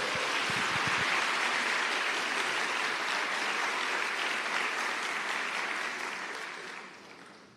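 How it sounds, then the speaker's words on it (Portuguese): A church congregation breaks into loud, sustained applause during a sermon, the dense clapping holding steady for several seconds before tapering off toward the end, with no voices over it. "Pode aplaudir isso aqui."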